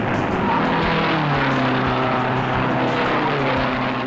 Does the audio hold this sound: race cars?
yes